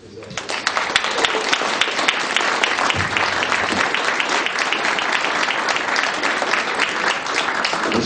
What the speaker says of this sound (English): Maybe we'll give him a round of applause for his effort.